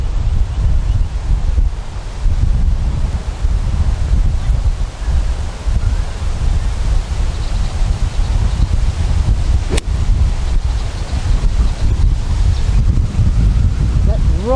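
Strong wind buffets across an open golf course, a constant loud low roar with rumbling gusts and no other clear sounds.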